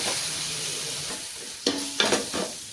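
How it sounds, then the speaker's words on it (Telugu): Ginger-garlic paste frying with onions gives a soft steady sizzle, then a few quick, close scrapes of a spoon stirring the pan. "ఇది పచ్చి వాసన పోయే వరకు వేయించుకోవాలి."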